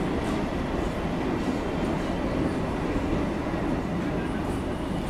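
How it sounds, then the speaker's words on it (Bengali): A Kolkata local train on the Dumdum to Majerhat line runs along the tracks toward Bibadibag, heard from inside as a continuous rumbling roar with steady wheel clatter and no talking. "এখন আমাদের ট্রেনটা যাচ্ছে বিবাদীবাগের দিকে"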